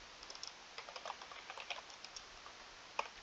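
Quiet, close keystrokes on a computer keyboard come in an irregular run of light clicks while someone codes, with one sharper tap near the end and no talking.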